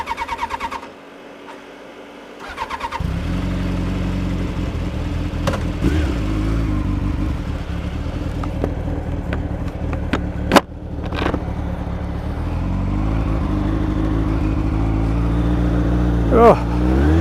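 A Honda CBR1000F motorcycle engine idles loud and close after starting, its rough steady rumble occasionally blipping up in revs as it warms, with a person talking nearby.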